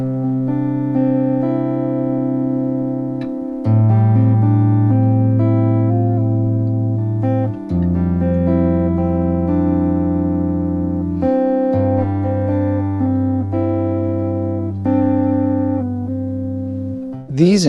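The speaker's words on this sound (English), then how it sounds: "So when you play, it sounds like this." A harpejji, a 24-string tapping instrument, plays sustained stacked tones in a steady series of chord changes, loud and alone with no talking.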